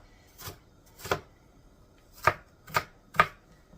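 A knife chops onions on a cutting board at home in five crisp, close knocks. Two come about half a second apart and three more follow in quicker succession, with quiet gaps between them.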